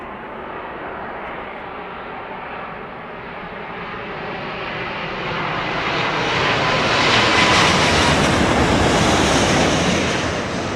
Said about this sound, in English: Here we go, 777. Now listen out to the vortex on this one.